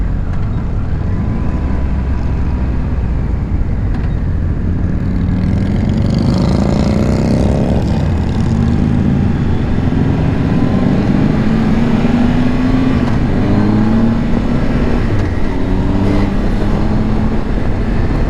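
A Triumph motorcycle rides along with a steady, loud engine drone that climbs in pitch as it accelerates midway, with wind rush throughout and no talking.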